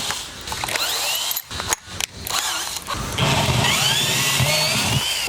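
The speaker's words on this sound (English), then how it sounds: "And I'm gonna drill it with some bigger ones" A cordless power drill with a wood bit whirs and grinds through material on a sailboat, its pitch rising and falling with brief pauses, then running steadily louder near the end.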